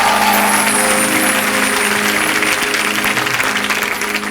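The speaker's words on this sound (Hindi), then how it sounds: "तो हो जाए जोरदार तालियां।" Loud applause from a television comedy show studio audience, a dense continuous roar of clapping and cheering, with a sustained tonal hum running beneath it throughout.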